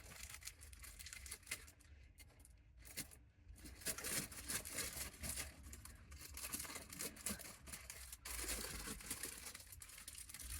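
Crinkling and rustling of plastic wrapping being pulled open from a flower bouquet near at hand, with occasional tearing and scraping sounds, no speech.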